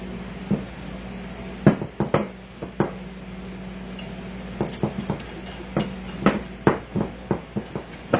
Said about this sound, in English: Get me a whisk and we'll mix this up.